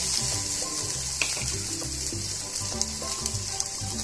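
Garlic sautés in a pan for peanut chutney with a steady, close sizzle. A spatula scrapes and clinks against the metal now and then.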